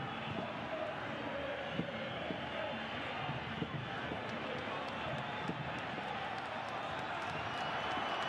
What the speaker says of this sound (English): this crowd really trying to will Toronto ahead